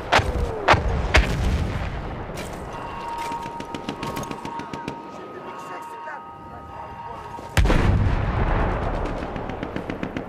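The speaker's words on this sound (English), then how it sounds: "Enemy coordinates have been sent to our artillery." Artillery and gunfire in Battlefield 1 during a Rush match on Cape Helles: sharp booming shots and blasts scattered through a steady battle din, with a sustained tone in the middle and a heavy impact near the end.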